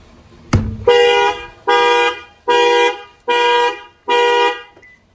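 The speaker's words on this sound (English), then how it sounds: "It will fire off the alarm." Factory alarm on a 2019 Toyota Camry sounding off: a sharp click, then five loud, evenly spaced horn honks, each about half a second, close up with nothing else heard.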